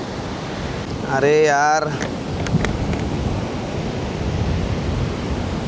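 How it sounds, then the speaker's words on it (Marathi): Rough sea waves surge steadily onto the shore at night, a continuous broad roar with wind buffeting the microphone; a man exclaims briefly near the start over the crashing water. "समुद्र लय जास्त खवळला आहे"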